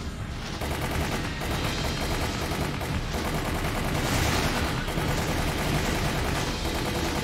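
Dense, continuous gunfire from the Resident Evil video game, with the character Billy firing while climbing: loud rapid-fire bursts and booming shots run without a break for the whole stretch, with no talk over them.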